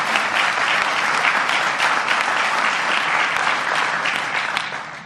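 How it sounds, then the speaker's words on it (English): Loud, dense audience clapping during a morning show fills the whole span evenly, a steady wash of many hands that eases slightly at the very end. "I hope the clapping doesn't take away from our question time"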